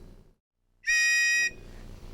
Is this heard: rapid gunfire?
no